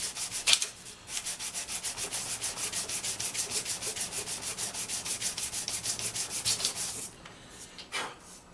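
Rhythmic back-and-forth sanding rubs across a wooden Karakuri Newton puzzle box, around thirty quick even strokes close up, then stopping with a couple of brief scrapes at the end.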